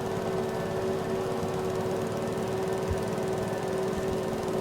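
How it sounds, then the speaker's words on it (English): A lawn mower in Farming Simulator 22 drives along with a steady, droning engine hum and faint rhythmic chugging, constant and fairly close, with no talking. "Wow, it's a quick mower."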